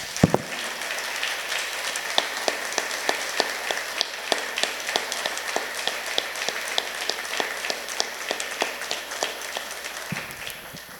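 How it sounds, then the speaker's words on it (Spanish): A church congregation breaks into sustained applause, a dense wash of clapping that holds steady at a moderate level for about ten seconds, then drops away abruptly. "También pido un aplauso para la iglesia de Santiago Papasquiaro"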